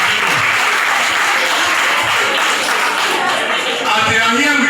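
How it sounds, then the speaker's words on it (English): A school audience claps in a loud, continuous round of applause to honor visiting Oba Hills National Park conservators, with the dense clapping sustained for nearly five seconds and some crowd voices mixed in. "A round of applause for them again."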